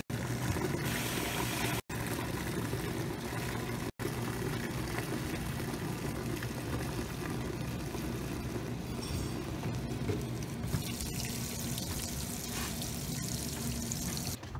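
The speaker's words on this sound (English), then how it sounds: "I actually like to get the water agitated before I put my sweaters in. So let's let it bubble up" Washing machine filled with water for sweaters, agitating and churning with steady bubbling and sloshing, loud and continuous throughout with two very brief dropouts and no talking.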